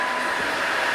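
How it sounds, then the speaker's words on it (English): A Bosch BBH3ZOOGB 28V cordless vacuum cleaner runs on its low setting, giving a steady, even motor whir with a bright airy hiss, continuous and close with no talking. "So you've got the low setting"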